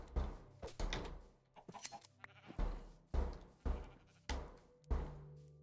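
Sheep in the Minecraft video game bleat repeatedly in short, regular calls about a second apart, interspersed with soft clicking game sounds and no talking.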